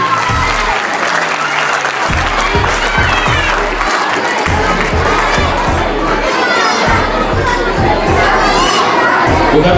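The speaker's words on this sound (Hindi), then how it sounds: "जोरदार क्लैपिंग हो जाए सभी के द्वारा" A large audience at a welcoming ceremony honouring a mother bursts into loud sustained clapping, mixed with cheers and children's shouts, continuous throughout.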